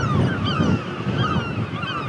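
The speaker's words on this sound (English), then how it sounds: "I'm not sure whether all these seagulls just think I've got food or whether they're getting a bit worried that I might be getting too close to their nests." Seagulls call close by near their nests on a coastal island with a medieval abbey, reached by the Maid of the Forth boat trip, their overlapping cries set against wind and surf.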